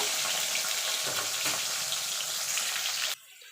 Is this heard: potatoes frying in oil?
yes